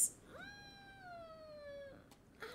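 A single drawn-out cat meow, rising then slowly falling in pitch and held for well over a second, clear and fairly close against a quiet room, followed by a brief faint rustle.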